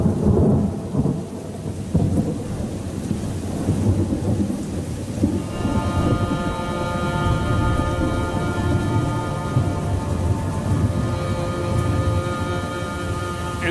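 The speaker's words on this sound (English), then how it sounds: "And this rain is really kicking our ass." Heavy rainstorm with thunder over a gold-mining site in a valley, a dense roar of rain with deep rumbling thunder rolling through, loud and continuous, with a steady tonal hum joining partway through.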